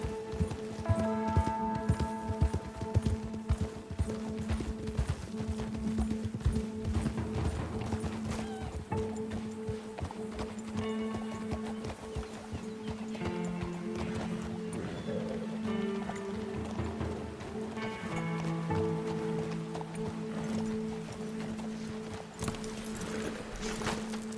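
Horse hooves clop at a steady galloping rhythm in Red Dead Redemption 2, close and loud throughout, layered over a sustained musical score with no talking.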